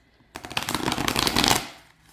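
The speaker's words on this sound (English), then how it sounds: "the riffle shuffle is superior in the sense that it mixes the cards" Large tarot cards from a 1780 German Besançon deck riffle shuffled close up, a dense crisp flutter of cards running for about a second and a half before settling, with no talking.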